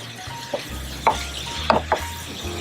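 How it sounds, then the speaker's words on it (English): Chopped tomatoes, onions and garlic stirred in a pan with a spoon, soft scraping and a few sharp clinks against the pan over a low steady background, close up. "Give this a good stir. Get everything combined."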